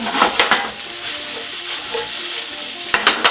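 Shallots frying in hot oil for a chicken biryani, with a steady close sizzle broken by short bursts of stirring and scraping near the start and again at the end.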